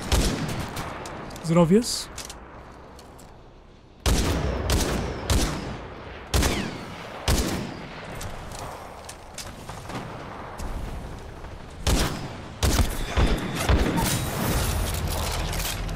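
Gunshots in Titanfall 2 ring out in sharp, loud bursts and single cracks spread across the whole stretch, with booming impacts and mechanical clatter, and someone talks briefly between shots.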